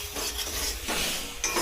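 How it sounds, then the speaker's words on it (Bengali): Potatoes fry in a pan, a close, continuous crackling sizzle broken by a few louder stirring scrapes, with no voices. "আলু ভাজা।"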